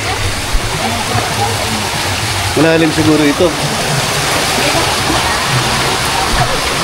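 Clear water flowing over rocks in a jungle stream, a steady broadband rush throughout, with a voice speaking briefly partway through.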